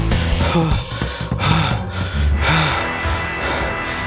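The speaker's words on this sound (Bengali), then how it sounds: "ছুটে একেবারে স্টেশনের সামনে এসে হাঁপাতে লাগলাম" Cartoon-style panting sound effect for a character who has run through rain to a station: a few sharp, loud gasping breaths with snorty puffs, close and unaccompanied by talk.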